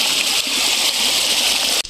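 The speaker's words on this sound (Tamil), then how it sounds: "தண்ணி பாஞ்சிட்டு இருக்குது" Irrigation water flowing through a coconut farm makes a loud, close, continuous rushing and splashing, which cuts off abruptly just before the end.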